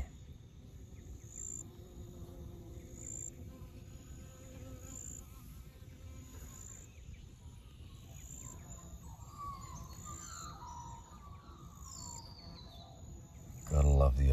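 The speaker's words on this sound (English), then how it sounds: "Bees in there." Insects hum steadily in the Australian bush, a faint continuous buzz with distant bird calls and high insect chirps around it, ending in a sudden close rustle or bump.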